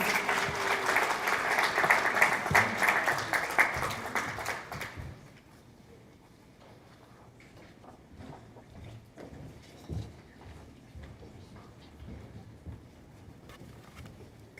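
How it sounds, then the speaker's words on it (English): At a student leadership recognition ceremony, an audience claps loudly and steadily for about five seconds before the applause fades into quiet room noise with scattered faint taps and shuffles. "let's give them a clap"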